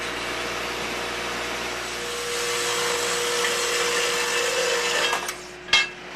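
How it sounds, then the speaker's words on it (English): A wrought iron bar is cut to length for a handrail, giving a steady, loud whining saw noise that swells midway, then cuts off with a clank and rattle near the end. "Starts by cutting the metal."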